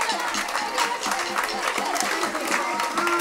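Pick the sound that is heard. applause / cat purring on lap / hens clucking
applause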